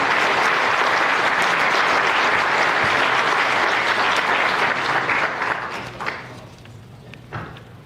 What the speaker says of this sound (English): a round of applause for the recipients of the Bob Thompson Sportsmanship Award